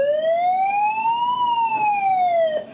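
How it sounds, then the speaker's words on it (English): A fire alarm siren on the Jade offshore platform wails in one long tone that rises slowly and then falls, loud and steady, with a faint click near the end. "Fire alarm."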